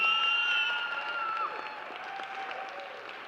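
A cheering section applauds and cheers a 7th-grade spelling bee contestant as she is called up, steady clapping with some whoops that eases slightly over the few seconds.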